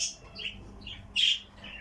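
Small pet bird, a female, chirping close by, a few short high tweets spaced apart, the brightest one near the end, in a quiet room.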